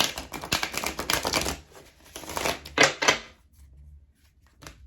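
A deck of tarot cards being shuffled close by, with bursts of quick riffling and flicking separated by short quiet pauses.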